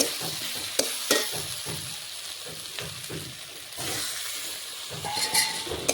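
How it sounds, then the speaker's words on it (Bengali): Broad beans being stir-fried in a pan, with steady sizzling and repeated scraping strokes of a spatula mixing them throughout, close and moderately loud. "এই দেখুন ভালোভাবে মিশিয়ে আমি একটু কষিয়ে নিচ্ছি।"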